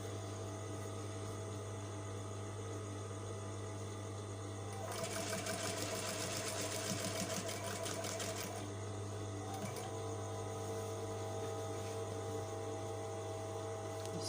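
A sewing machine stitches a shirt collar in one sustained burst of rapid, even needle chatter lasting a few seconds, set against a constant low mechanical hum before and after.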